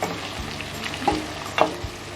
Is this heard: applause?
no